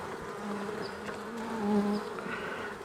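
Honeybees in an opened hive during a warm January check hum steadily at close range, a dense buzzing drone with a few individual bees whining past, faint overall and with no talk.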